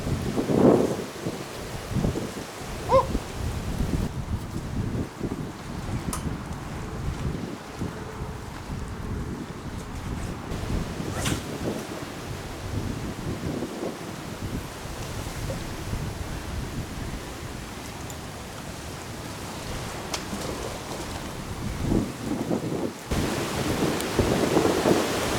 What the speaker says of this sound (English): Right guys, it's raining,